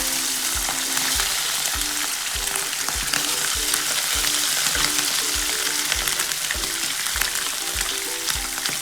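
Constant loud sizzling of chicken gizzards and liver frying in hot oil, crackling steadily with a faint regular thump underneath.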